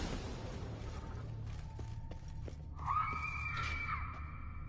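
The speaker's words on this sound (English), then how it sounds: "Yeah, that's a screech." A creature screeches from the catacombs in The Witcher 3, a faint eerie rising cry with a wavering tonal wail near the end over low ambient rumble and scattered clicks and creaks.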